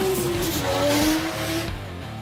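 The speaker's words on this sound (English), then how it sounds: "when they take the track, the roaring of the cars get the adrenaline pumping" Race cars roar past on a circuit during a motor racing event in Hong Kong, loud and close, with engines whining and shifting pitch and tyres squealing before the noise drops off at the end.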